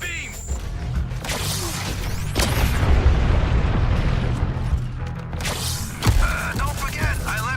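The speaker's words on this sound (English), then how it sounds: "It's firing the beam!" A weapon firing a beam in a game, heard as a sustained roaring, booming blast that swells and holds for several seconds before cutting off, followed by another heavy surge, with radio voices around it.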